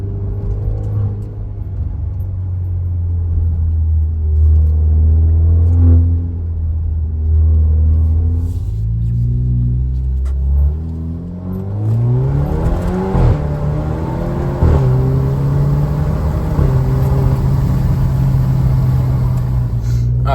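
Alfa Romeo Stelvio 2.0 Monza exhaust in manual mode running up through the gears: loud, close engine drone rising in pitch, a shift, then climbing again, with a steady roar and no talk over it.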